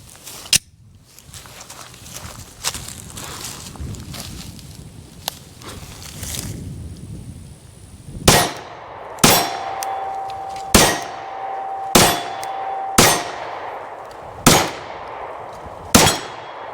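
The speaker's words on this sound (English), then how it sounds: "10 more rounds with the Glock 48" A Glock 48 pistol firing Speer Lawman 115 grain rounds, eight sharp separate shots at an uneven pace with a metallic ring after some, preceded by quiet handling clicks.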